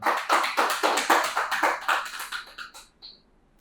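Rhythmic collective clapping from a meditation retreat audience honouring their gurus, a steady run of loud unison claps that slows and fades out near the end, with no talking.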